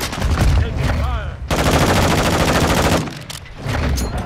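Automatic gunfire in the video game Call of Duty Modern Warfare II, loud dense bursts of rapid shots filling most of the stretch with short gaps, mixed with game effects.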